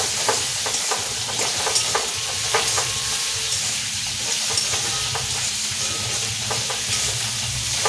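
Bottle gourd with poppy seed paste fries in a pan, a steady broadband sizzle with spatula stirring scrapes ticking through it, close and continuous with no talk.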